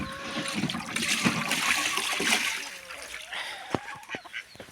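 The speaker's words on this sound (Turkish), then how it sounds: "Burada ördəklər çimib suyu bulandırıblar." Ducks splash and bathe in muddied garden water, with a broad wet splashing wash followed by a few sharp close slaps and drips toward the end; no talk is heard.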